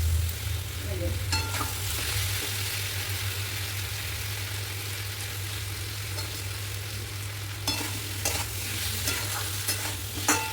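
Tomato is stirred into a frying pan while making a rohu fish curry with papaya, a steady sizzle with scraping strokes of the spoon and a few sharper clatters, over a low constant hum.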